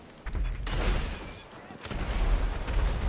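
Gunfire rings out in GTA 5 during a police chase, with bursts of shots and booming blasts coming in two clusters and a brief lull between them.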